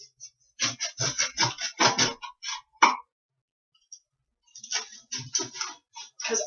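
A knife sawing through the end of a freshly baked, still-warm bread loaf, close crisp crunching strokes in two bursts separated by a short pause.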